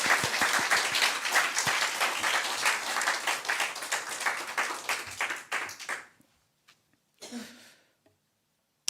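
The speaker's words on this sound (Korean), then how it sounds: "감사와 영광의 박수를 올려드리겠습니다" Sustained applause from a church congregation, dense and loud for several seconds, then tapering off into near silence with a brief final burst of clapping.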